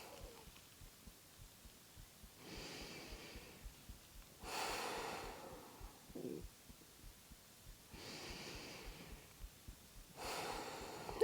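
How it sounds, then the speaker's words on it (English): Slow, deep breathing during a calm grounding yoga flow: long soft inhales and exhales roughly every two seconds, near and quiet, with a faint low pulsing underneath and no speech. "Making the breath deeper and deeper."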